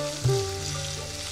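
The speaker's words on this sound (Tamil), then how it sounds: "இந்த மாதிரி நல்லா வதக்கிக்கோங்க." Orange peel sautés in a hot pan for an Iyer-style vathakulambu, a steady close sizzle with a sharp hiss as it's moved at the start, and no voices.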